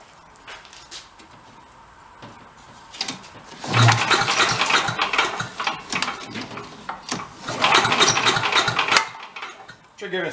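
An 8HP vacuum engine cranks, then catches and runs with a rough, loud mechanical clatter, surging up and down and dropping off near the end, while someone talks over it.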